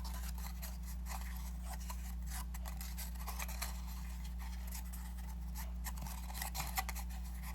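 Paper being folded and tucked inward while crafting an origami rose air freshener, giving soft, scattered rustles and light scrapes over a steady low electrical hum.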